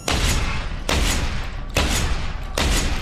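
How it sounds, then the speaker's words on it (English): Heavy shotgun blasts in Deus Ex: Human Revolution, The Missing Link, four loud booming shots spaced roughly a second apart, each with a long rumbling tail that fills the gaps. "Oh, that's it. You're getting shotgunned."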